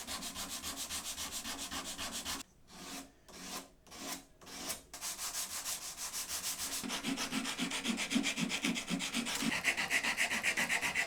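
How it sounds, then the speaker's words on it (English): Steady rasping of sandpaper on a wooden knife blade, with a few short separate strokes early on, then continuous rhythmic rubbing that grows slightly louder. "all I need to do is finish the sanding and shaping on the blade and on the handles"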